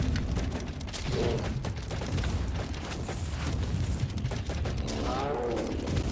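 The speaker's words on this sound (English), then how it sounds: "meet machine gun crossbow" A machine gun crossbow fires in the VR game In Death: Unchained, with a steady stream of rapid mechanical clacks and ratcheting bolt shots that runs continuously and fairly loud throughout.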